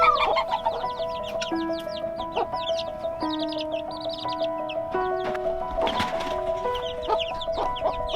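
Silkie chicks and special-needs chicks on a farm peep and chirp in a dense overlapping chorus, with a steady background hum and some louder clucking calls nearby.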